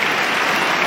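Dense, steady applause from the crowd on Court No. 1 at Wimbledon 2018 after a set in a women's match, loud and continuous throughout.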